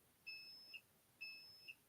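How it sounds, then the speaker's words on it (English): A heat press timer beeps in two quick, identical bursts about a second apart. Each burst is a steady electronic tone that ends in a short chirp, clear and fairly close in a quiet room. "I don't know if you guys can hear it beeping."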